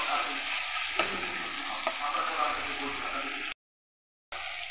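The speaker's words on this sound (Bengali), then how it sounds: "এখন আমি আদা রসুন বাটা দিয়ে দিলাম। এটাকে একটু ভেজে নেব।" Ginger garlic paste frying with softened tomatoes in a pan, a steady close sizzle with a couple of stirring scrapes, broken by a brief silent gap near the end before the sizzle resumes.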